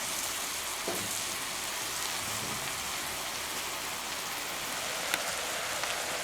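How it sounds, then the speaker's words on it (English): Balsamic-glazed Brussels sprouts sizzle in a Lodge cast iron pan over the wood fire of a Solo Stove Mesa, giving a steady, soft, rain-like crackle with an occasional sharper pop, heard alone without voices. "the sounds of the sizzling"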